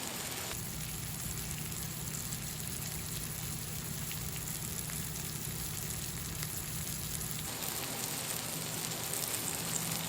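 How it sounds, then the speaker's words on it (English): Onions sizzle on a grill griddle for a smashburger, giving a steady, even hiss like light rain that stays constant and close with no talking. "we're actually going to grill some onions too to give it just a little extra flavor"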